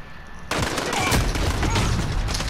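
Dense gunfire in a Warzone match, a sudden onset of rapid overlapping shots and crackling bursts that continue loudly and close without pause.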